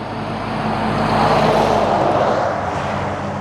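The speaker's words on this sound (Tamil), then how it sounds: "பென்ஸ் வண்டி வருது." A Mercedes-Benz car approaches on a road in Russia. Its broad tire-and-engine rush swells louder toward the middle, then eases off as it passes nearby, with no speech.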